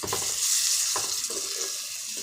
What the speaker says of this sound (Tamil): தக்காளியை கட் பண்ணி வச்சுருக்கேன் அத்தியத்தில் போட்டு வதக்கிடுறேன்